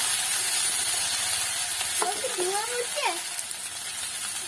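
Ground ginger-garlic-onion paste with coriander-cumin paste and Kashmiri chilli powder frying in a pan for chicken curry, a steady broad sizzle with a few stirring scrapes; a voice briefly rises over it midway.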